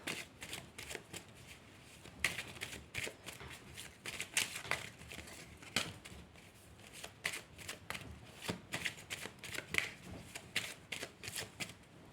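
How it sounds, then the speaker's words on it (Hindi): Tarot cards shuffled by hand: quiet, continuous papery riffling and slapping with a crisp, irregular rhythm, close by and alone. "ठीक है, कुछ और कार्ड्स निकालते हैं।"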